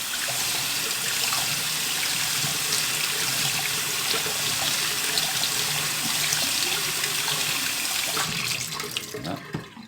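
Cold tap water runs steadily and splashes into a tray of germinated seeds being rinsed, a continuous close hiss and patter that breaks up and trails off at the end.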